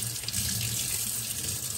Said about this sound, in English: we're gonna go ahead and turn on that faucet and get it wet